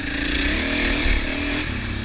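A 2024 Husqvarna FE501s dirt bike engine drones steadily while riding, a loud, close, continuous mid-pitched rumble with light clatter and no talk.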